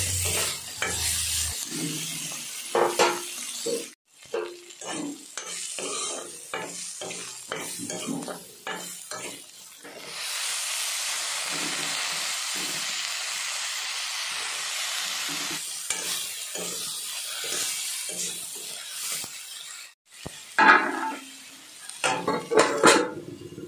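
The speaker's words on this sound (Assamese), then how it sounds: "এতিয়া প্ৰথমতে শুকান মাছখিনি অলপ সময় ভাজি ল'ম পিঁয়াজৰ লগতে" Dried fish fries with onions in a pan, a steady sizzle broken by repeated scraping and stirring strokes of a utensil against the pan, loud and close, with a stretch of continuous hissing in the middle.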